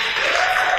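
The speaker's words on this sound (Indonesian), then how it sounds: "masih boleh tepuk tangan buat Ibu Naomi." Steady applause from an audience at an opera recital, a dense wash of clapping throughout.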